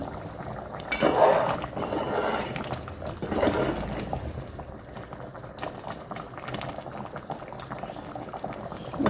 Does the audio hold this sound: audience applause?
no